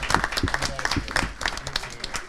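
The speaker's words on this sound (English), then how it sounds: "excellent round of applause as the students go" A brief round of applause at a school board meeting for drama students, with a modest group clapping unevenly and some distinct, close hand claps standing out.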